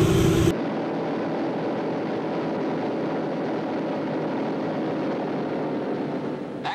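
A B-17 bomber's engine runs in a steady, heavy, droning roar heard from inside the aircraft, continuous and loud after a brief burst of other noise at the start.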